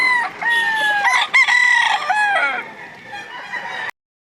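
Gamecocks at a fighting-rooster sale in Lipa, Batangas crow loudly and repeatedly, with harmonic calls and sharp clucks overlapping across the clip before it cuts off.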